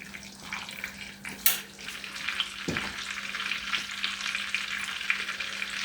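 Butter sizzling and frying steadily in a pan while making a lasagna sauce, a continuous close crackle with a brief stir or clatter partway through.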